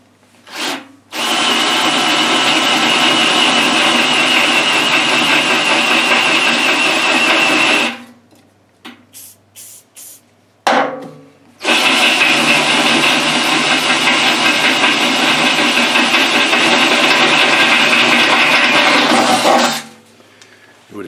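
A power drill with a slightly bent bit bores into metal, using makeshift cutting oil, in two long, loud stretches of high whirring grind, separated by a short pause with brief starts and stops.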